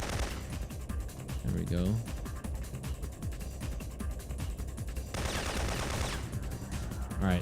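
Rapid gunfire from the PS1 game Syphon Filter, dense bursts of shots crackling continuously with a louder volley near the end, while someone briefly speaks over the action.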